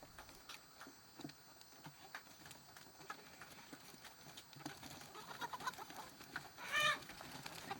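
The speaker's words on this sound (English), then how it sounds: "Flying chickens, they love to get out in the mornings." Flying chickens outside on a homestead in the morning, faint clucks and scratchy clip-clop taps scattered over a quiet background, with one louder squawking burst near the end.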